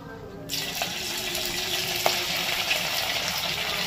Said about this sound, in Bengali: তেলটা পুরোপুরি গরম হয়ে গেছে। এবার এক এক করে আমি চিকেনগুলোকে ছেড়ে দেব।